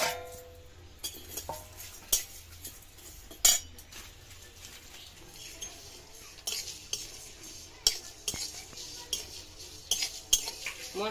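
Dry red chillies, black peppercorns, fennel, cumin and mustard seeds are stirred in a hot kadai for mango pickle oil, a metal spoon scraping and clinking in irregular nearby strokes with a faint rattle of seeds.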